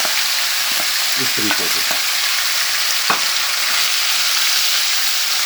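Lamb mince frying with cumin in a hot pan gives a steady dense sizzle, with a few close scraping clacks of a spoon against the pan partway through; a short spoken phrase comes in near the start.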